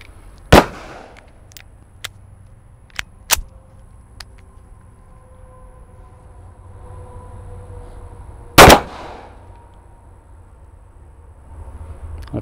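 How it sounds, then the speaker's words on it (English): Three sharp pistol shots from a Remington R51 loaded with Speer Gold Dot 124 grain +P hollow points, two close together near the start and a third loud crack several seconds later, separated by quiet outdoor range ambience. "I'm gonna put some Spear Gold Dot 124 grain plus P through it"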